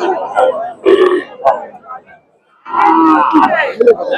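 Bulls at a cattle market give deep, close moos and grunting calls in two bursts split by a short quiet gap, loud and near, with a faint crowd in the background.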